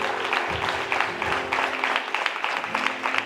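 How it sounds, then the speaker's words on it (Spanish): A church congregation applauding together, a dense sustained wash of many hands clapping that fills the room at steady loudness throughout. "Denle un aplauso al Señor."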